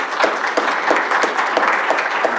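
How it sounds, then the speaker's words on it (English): Audience at a Rochester Board of Education business meeting clapping steadily for an honoree, a dense, sustained round of applause with no talk over it. "Give Ms. Brinkley a round of applause."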